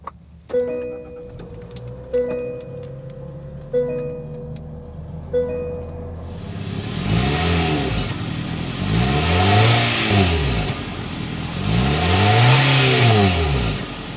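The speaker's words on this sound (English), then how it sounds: "start it up so you can hear that exhaust note." Several electronic door chimes ring, then a 2023 Mitsubishi Outlander SEL's engine cranks and starts, revving up and down repeatedly with a loud, deep exhaust note.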